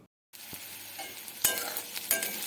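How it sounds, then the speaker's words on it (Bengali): Onion and garlic sizzle steadily in a hot pan, a close crackling fry broken by a few sharp stirring scrapes, with no talk over it. "এবারে আমি পেঁয়াজ আর রসুনগুলো ভেজে নেব"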